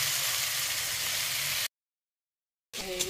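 Onions sizzle steadily in hot oil in a home kitchen pan, a continuous hiss that cuts out abruptly, then resumes briefly.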